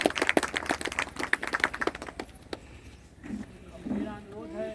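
Audience clapping in welcome at a Swami Vivekananda birthday celebration on a school campus, a burst of brisk crowd applause that fades after a couple of seconds into quieter room noise and a few voices.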